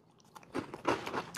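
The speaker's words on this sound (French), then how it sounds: "Je prends une bouchée de Cheetos." One crisp bite into Cheetos, followed by a few quick crackling chews, close and fairly quiet.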